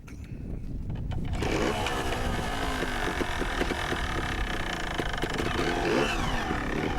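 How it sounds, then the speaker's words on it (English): A trials motorcycle fires up and rides off at a teen trials event, its engine note rising into a steady close buzzing drone with gear and throttle changes and some wind rumble. "start your bike up."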